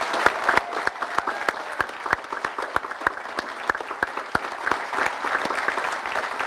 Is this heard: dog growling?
no